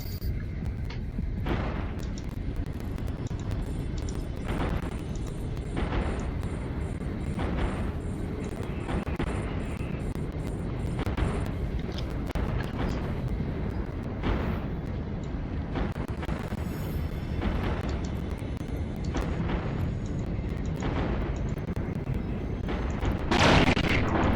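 Ships firing weapons in the space game Eve Online: a steady, dense rumble of repeated booming shots and blasts, fairly loud and continuous, with no talk.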